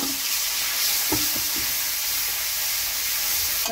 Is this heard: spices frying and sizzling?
yes